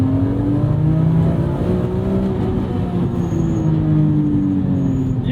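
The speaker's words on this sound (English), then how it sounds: "that smooth S54 inline 6" A BMW E46 M3's S54 inline-six revs smoothly with a steady drone that climbs and sags gently, heard from inside the car.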